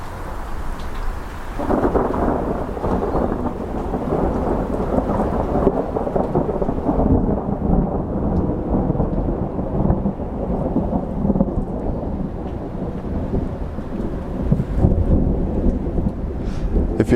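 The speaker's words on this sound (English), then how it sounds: "And here comes a little bit more thunder." Thunder rumbles low and heavy through steady rainfall, a continuous dense wash of rain with rolling thunder swelling beneath it for the whole stretch, no voices present.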